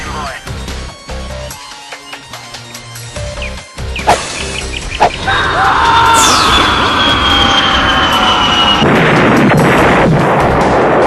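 Airstrike explosions in a video game boom and rumble over dense battle noise, swelling into a sustained, roaring wash of blasts in the second half, with voices talking over the opening.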